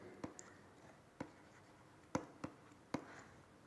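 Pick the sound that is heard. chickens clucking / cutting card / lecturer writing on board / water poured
lecturer writing on board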